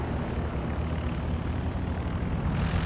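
The recon plane in Company of Heroes 2 gives off a continuous propeller-engine drone that stays at an even level throughout, with no voices.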